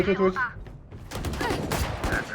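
Gunfire in Valorant, a rapid burst of close, sharp shots following a brief voice.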